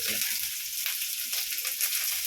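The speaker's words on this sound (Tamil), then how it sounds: "கடுகு போட்டேன், வெங்காயம் 2 கருவேப்பிலை," Onion frying in oil with mustard seeds and curry leaves, a dense, steady crackling sizzle close up with no talk over it.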